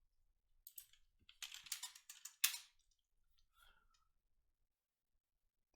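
Code being typed on a computer keyboard in a few quick, quiet bursts of clicks separated by silence, close to the listener.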